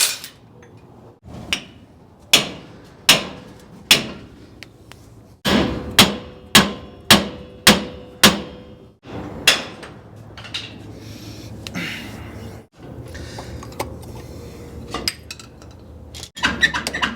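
A hammer strikes metal rear axle parts of a 1960 car-pickup conversion in a series of loud, sharp ringing blows. Some come in quick runs and others come singly, with brief pauses between them.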